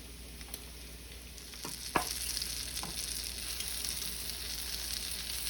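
Strawberry French toast roll-ups frying in a pan, a steady sizzle with a sharper clatter near the middle, close and alone without talk.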